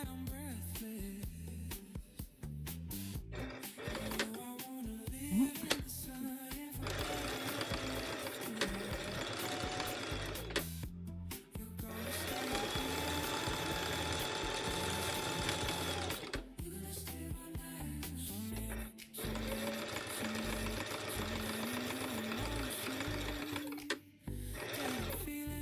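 A sewing machine stitches zigzag seams while a yarn bowl is being made: long, steady runs of rapid mechanical whirring and clicking, with short pauses between the runs, close and fairly loud with no talk.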